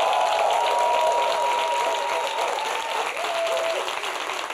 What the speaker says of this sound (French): Je voudrais qu'on puisse les applaudir très fort